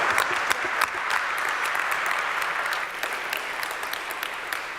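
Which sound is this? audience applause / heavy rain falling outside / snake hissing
audience applause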